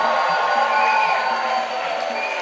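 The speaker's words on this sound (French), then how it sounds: "Shout of victory." Worshippers in a church raise shouts of victory, a continuous crowd roar of cheering voices with sustained tonal calls layered over it, steady in level and filling the room.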